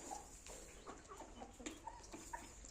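Hens kept for laying eggs cluck softly in a yard, a handful of short, scattered calls fairly near but quiet over a low background.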